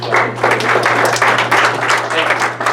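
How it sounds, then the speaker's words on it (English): Audience at a law director's debate in Mansfield, Ohio clapping in a dense, continuous round of applause, moderately loud with a steady low hum underneath. "Give yourselves a round of applause."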